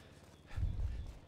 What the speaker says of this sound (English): There were some wild ass horses over here.